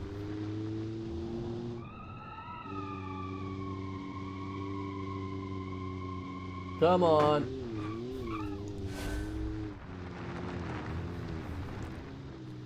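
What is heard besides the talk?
car engine and tire sounds from a video game, BeamNG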